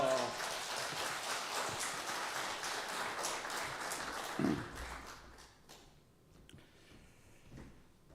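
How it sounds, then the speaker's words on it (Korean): A church congregation at a New Year revival service claps to welcome the pastor, steady applause for about five seconds that then thins out and fades to near quiet, with a brief voice partway through. "우리 목사님 나오실 때 오른손 들고 할렐루야 하고 박수로 목사님 환영하도록 하겠습니다."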